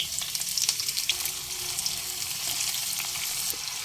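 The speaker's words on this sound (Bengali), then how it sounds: "পেঁয়াজ একটু ভাজা ভাজা হতে দেব" Chopped onions fry in oil in a pan for a mutton kasha, a steady bright hiss and crackle close up, with faint stirring noises mixed in.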